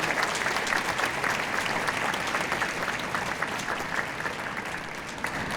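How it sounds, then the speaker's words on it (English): Audience at a high school honor band event applauds steadily, a loud, dense wash of many hands clapping that holds evenly from start to finish with no voices on top. "can we give them a big round of applause for this?"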